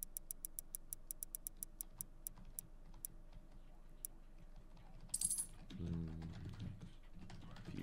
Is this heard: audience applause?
no